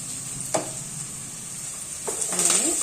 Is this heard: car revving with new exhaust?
no